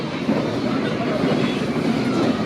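Dense, rough rumble and rattle inside a Pasundan New Generation passenger train carriage as it jolts over track switches with the doors shut, a loud continuous roar with no clear voices.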